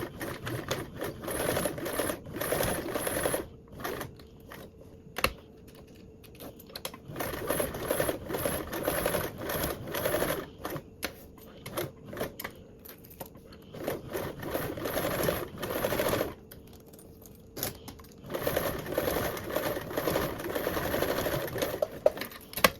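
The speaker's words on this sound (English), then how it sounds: "I'm gonna do 2 rows of stitching, 1/8 of an inch from the top end and then 1/8 of an inch at the bottom end" Sewing machine running two rows of stitching an eighth of an inch from the edge, a close, continuous mechanical whir in long bursts with short pauses between runs.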